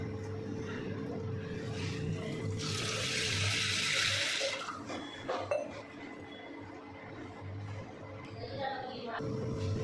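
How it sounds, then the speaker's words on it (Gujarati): Water poured over 500 grams of cleaned sago pearls in a bowl to soak them, a steady splashing pour lasting a couple of seconds, with light clinks of a vessel nearby and faint background hum. "તો આ રીતે આપણે તેને ડુબાડુબ પાણીમાં પલાળી દઈશું"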